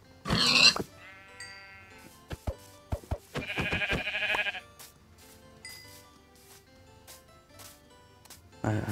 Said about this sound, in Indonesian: Wah, ada domba.